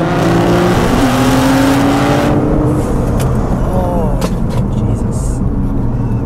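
A 2017 Nissan GT-R (R35) engine revs with rising pitch sweeps, dropping briefly as it downshifts, then climbing again as it accelerates hard, loud and close.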